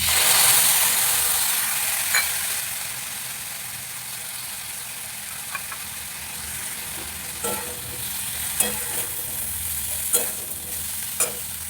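Potatoes with poppy seed paste fry in oil in a pan, giving a continuous bright sizzle, while a spoon scrapes and stirs with scattered clicks against the pan.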